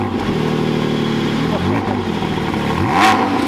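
A 2019 Porsche 718 Cayman GT4 engine fires up for the first time, a loud, raspy revving with rising and falling pitch that fills the short stretch, with a voice mixed in.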